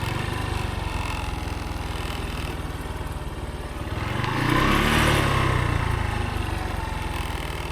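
A motorcycle engine runs steadily while riding into a river crossing, the mid-pitched drone swelling louder midway as the bike pushes through the water, heard up close with no talk.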